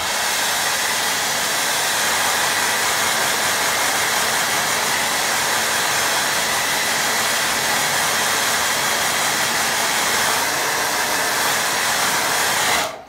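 A hair dryer blows steadily and loudly close by, drying a watercolour painting, a constant broadband whoosh that runs for about thirteen seconds before cutting off at the end.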